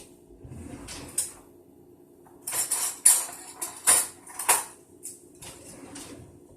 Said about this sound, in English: So I'm going to get a spoon.